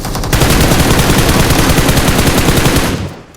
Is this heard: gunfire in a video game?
yes